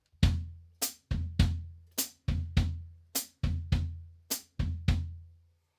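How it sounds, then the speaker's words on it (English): Samba foot pattern on a drum kit, bass drum and hi-hat played together in a steady repeating kick, hat, kick figure, with close, punchy low thumps and crisp hat chicks heard alone. "the samba right foot and left foot or bass drum and hi-hat pattern"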